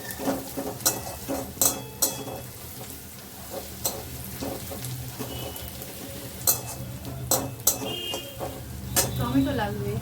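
Onions frying in oil in a home kitchen pan, a steady sizzle running throughout with repeated sharp scrapes and clinks of a utensil stirring against the metal, fairly close and moderately loud.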